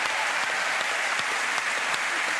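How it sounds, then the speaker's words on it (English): A studio audience applauds two teams for tasting a fiercely hot curry, a brisk, steady patter of many hands that fills the room without any talk over it. "A round of applause for the two teams for trying that curry."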